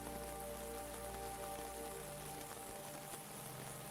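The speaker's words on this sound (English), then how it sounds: "Outside, the rain keeps its quiet rhythm." Steady rain falling outside, a soft continuous patter on surfaces heard evenly throughout, faint and close with no other sounds.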